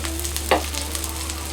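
Chopped onions sizzle in hot oil while being stirred to brown them for tempering a taro lentil dal, with a steady frying hiss and one brief scrape of the spoon against the pan partway through.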